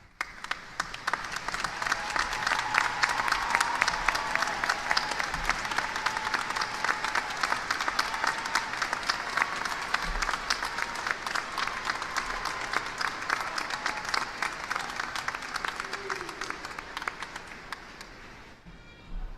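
A large graduation commencement audience of parents, spouses, family and sponsors gives a sustained round of applause, dense steady clapping from a crowd in a hall, loud and continuous throughout before tapering slightly at the end.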